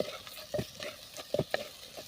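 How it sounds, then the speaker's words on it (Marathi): Curry leaves and ground masala paste sautéing in oil in a pan, with soft stirring scrapes and light sizzling that come in a few brief bursts over a quiet background. "आता आपण थोडासा कढीपत्ता टाकूया"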